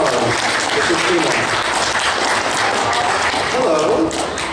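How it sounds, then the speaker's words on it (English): Convention crowd clapping for a costume contest entrant, a steady even wash of applause throughout with faint voices mixed underneath. "Round of applause for Christina."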